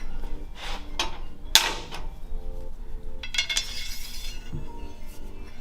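Metal go-kart parts (flanges, bearings, lock collars) fitted onto an axle: a series of close, bright metallic clinks and taps, with one sharp ringing knock, over a steady low background.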